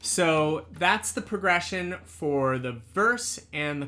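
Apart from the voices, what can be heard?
No everyday noise stands out behind the speech.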